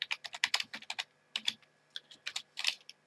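A server whitelist command typed on a computer keyboard for a CraftBukkit or Spigot Minecraft server: quick, close bursts of crisp keystrokes with short pauses between groups.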